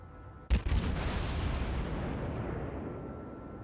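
The heavy cruiser Atago fires an armor-piercing salvo in World of Warships naval combat, one sharp booming blast followed by a long rumbling roar that fades slowly.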